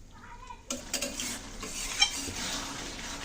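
Kashmiri dhoka is stirred and slowly sautéed in a pan with a little water, giving a close, steady sizzle with scraping spatula strokes and one brief squeaky chirp near the middle.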